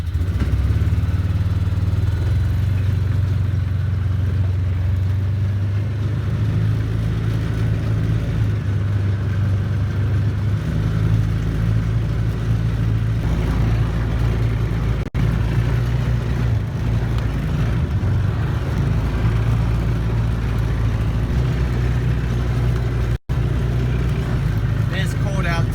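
A Polaris Ranger UTV drives along with a steady, low engine rumble and drone from inside the cab, continuous and fairly loud.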